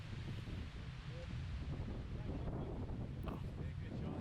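Wind buffeting the microphone on an outdoor disc golf course, a continuous low rumbling roar with no breaks, and faint voices in the background.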